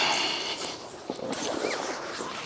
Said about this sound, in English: Do the zippers on both sides.